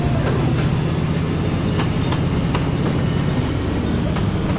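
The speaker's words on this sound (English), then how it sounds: "That looks like a proper train for like a high-speed first-class service." Steady rumble and rolling clatter of a high-speed passenger train running in the railway-building video game Mashinky, continuous and fairly loud throughout with faint periodic clicks over the track noise.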